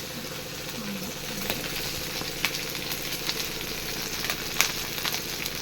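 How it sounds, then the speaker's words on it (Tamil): Fish tail frying in hot oil with curry leaves, a steady close sizzle running throughout with a few brief clicks and pops. "இது வால் வறுக்கிறேன்."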